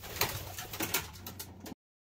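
Racing pigeon hens coo close by in a loft, a short run of soft throaty calls with a few brighter flutters before the sound cuts off abruptly.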